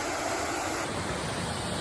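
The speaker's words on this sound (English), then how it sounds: "Kent Falls State Park, waterfall in the background" The Kent Falls waterfall in Kent Falls State Park, Connecticut, gives a steady broad roar of rushing water, heard from nearby without a break.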